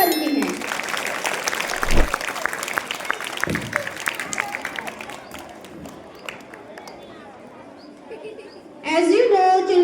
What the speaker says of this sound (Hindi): इस छोटी बच्ची के लिए तालियां तो बनती हैं।